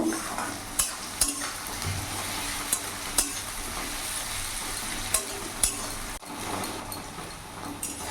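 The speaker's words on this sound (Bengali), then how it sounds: "দেখতে পাচ্ছ পেঁয়াজ আমার বাদামি কালার হয়ে গেছে, খুব সুন্দর ভাজা হয়ে গেছে।" Sliced onions frying to brown in a pan for a mutton curry, a continuous close sizzle broken by sharp clinks and scrapes of a stirring spoon against the pan, with no talking.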